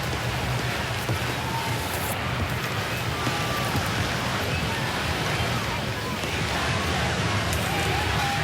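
Steady rain pours down over a large outdoor crowd gathered at a state funeral in Singapore, a dense, even hiss of drops on surfaces that holds constant throughout with no clear voices breaking through.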